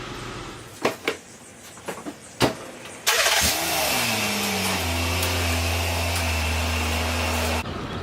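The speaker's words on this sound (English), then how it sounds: "car runs good, starts right up" An Infiniti M35 with freshly replaced spark plugs and a new crank sensor cranks over and catches, revving briefly before settling into a steady, close idle after a few preceding clicks and taps.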